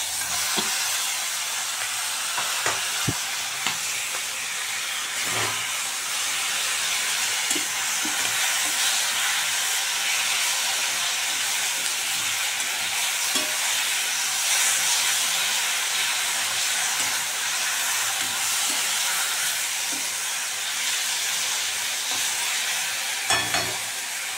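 Boiled taro leaves (kochu shak) cook in a pan with a steady, loud steamy hiss and sizzle throughout, with occasional faint stirring clicks and knocks, no talking.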